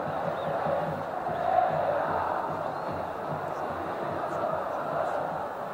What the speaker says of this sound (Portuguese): E a torcida do São Paulo na festa.